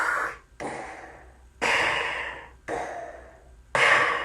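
A voice imitates the heavy, rhythmic breathing of a CPAP machine, like Darth Vader: five loud breaths alternating in and out with short pauses between them, close and alone.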